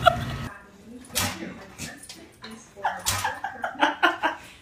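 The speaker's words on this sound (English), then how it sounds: "dog trying to escape the cage" A dog in a cage whimpers and yips in short, uneven bursts while trying to get out, close and fairly loud, with people talking and laughing around it.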